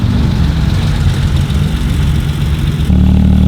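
A Porsche engine idles steadily and loudly close by, a deep continuous rumble that swells slightly near the end, heard at a Porsche and coffee gathering in South Melbourne.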